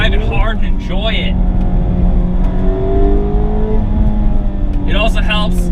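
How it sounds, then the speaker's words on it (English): A 2019 Mazda MX-5 Miata RF with a tuned 2-liter engine revs with a rising tonal whine, mostly under someone speaking close by. "It also helps that tuned 2-liter engine also sounds pretty sweet"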